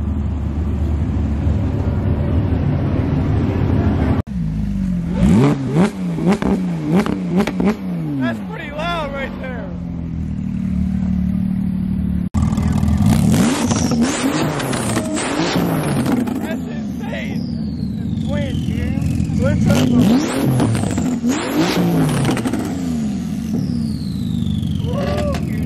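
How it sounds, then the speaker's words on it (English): Naturally aspirated V12 of a Ferrari 812 Superfast revving loudly at a supercar rally, with rising and falling engine pitch sweeps and other cars nearby; the engine noise stays strong and continuous throughout. "Look at that, 812, super fast, naturally aspirated V12"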